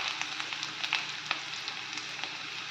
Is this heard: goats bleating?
no